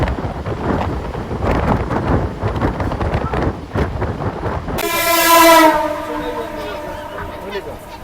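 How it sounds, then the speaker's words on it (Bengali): A packed Howrah to Chandannagar galloping local train rumbles and rattles loudly along the rails from inside the carriage, then a long, blaring horn sounds partway through and fades. "আমি যাচ্ছি গ্যালোপিন লোকালে"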